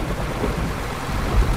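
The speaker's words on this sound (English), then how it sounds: "Have you ever known it rain in the desert like this?" Steady rain with low rolling thunder in a desert setting in Euro Truck Simulator 2, loud and continuous with a deep rumble swelling near the end, no voices.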